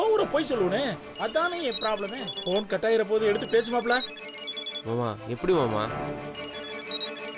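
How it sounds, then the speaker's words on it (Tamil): A telephone rings with bright, repeating electronic tones in a domestic setting from a Tamil TV drama, while people talk over and between the rings. "ஐயோ போன் கட் ஆயிருச்சே"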